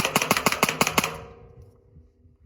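Rapid string of about ten sharp Ruger 10/22 rifle shots fired in quick succession, each a crisp crack with a short ringing tail, fading into quiet afterward.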